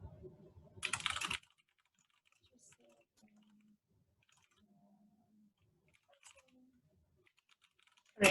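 Keys on a computer keyboard tapped in one short, dense burst of typing near the start, then near silence with faint scattered sounds and another loud burst cut off at the end.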